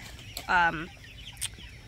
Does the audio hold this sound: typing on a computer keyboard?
no